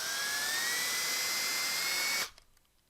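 A drill whines steadily at high pitch while boring a pilot hole through a hard case for external ports, then stops abruptly and leaves near silence.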